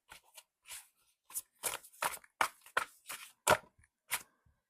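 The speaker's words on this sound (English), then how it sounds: "I want to pull one of these Universal Truths cards." An oracle card is drawn from a Universal Truths deck: a string of crisp, close papery snaps and flicks, spaced irregularly against near silence.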